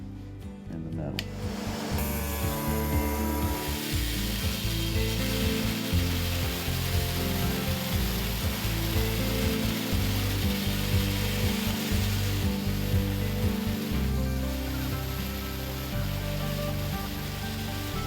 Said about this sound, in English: This is the tiny blade that lets us cut the really tight corners in the metal.